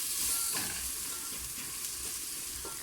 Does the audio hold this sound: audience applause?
no